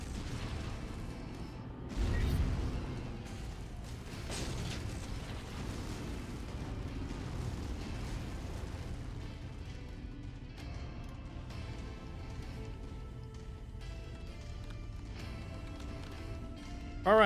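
Missile bombardment in MechWarrior 5 rumbles as a dense, continuous wash of low booms and blasts, one heavier impact early on, with the barrage sustained at a moderate level throughout.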